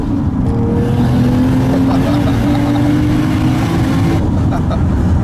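Toyota Chaser Tourer V with a tuned 1JZ engine making 450 horsepower, revving loudly and close, rising and holding at high pitch across the clip.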